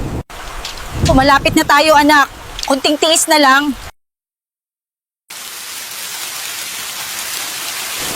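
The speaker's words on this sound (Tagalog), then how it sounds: "ang lakas ng hangin at ulan" Strong wind and heavy rain make a steady, dense hiss that fills the last few seconds alone, after a short spoken exchange and a brief gap of silence.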